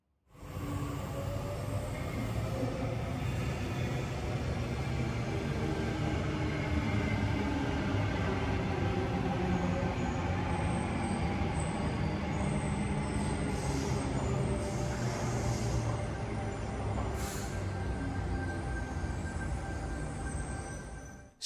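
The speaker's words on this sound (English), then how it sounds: "that was a Waratah Series 2 heading for the City Circle and a Tangara" Sydney suburban trains, a Waratah Series 2 and a Tangara, rumbling past Sydenham Station at steady volume, wheels clattering on rails with occasional high squeals, continuous and fairly close, no talking.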